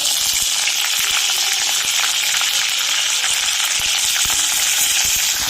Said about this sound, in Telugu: ఇప్పుడు కట్ చేసి పెట్టుకున్న ఆనియన్స్ వేసుకుంటాను